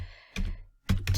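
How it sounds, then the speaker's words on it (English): A few keystrokes on a computer keyboard while building digital worksheets, two short clusters of close, soft thuds separated by a brief pause. "my bad typing there"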